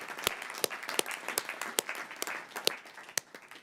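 Applause at a city council meeting, a modest room of people clapping with distinct sharp claps in an uneven rhythm, moderately quiet.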